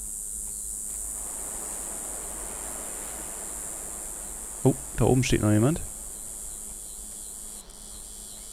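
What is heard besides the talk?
crickets chirping in video game Betrayer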